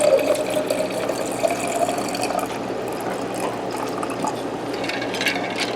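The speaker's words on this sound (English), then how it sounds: "I'm going to try to carefully pour me a lovely drink" Homemade roselle tea is poured over ice into a container, giving a steady liquid pour with scattered ice clinks and rattles throughout, close by and with no talking.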